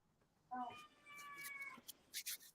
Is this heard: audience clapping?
no